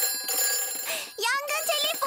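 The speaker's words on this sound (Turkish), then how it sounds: "Yangın telefonu çalıyor." A cartoon fire station telephone rings in a bright, warbling electronic trill, repeated bursts close and clear, with a voice briefly between the rings.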